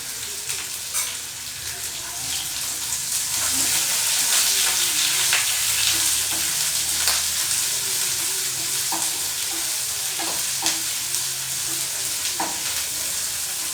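Onions frying in a pan for a Tamil okra (lady's finger) stir-fry, a steady close sizzle with occasional crackles and stirring scrapes, no talking.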